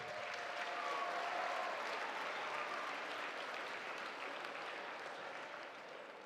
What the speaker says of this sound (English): Let's give a round of applause for all of the 8th graders.